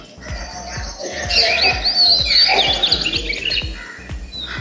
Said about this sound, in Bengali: প্রচুর পাখি আছে চারিদিকে পাখির আওয়াজ শুনতে পাচ্ছ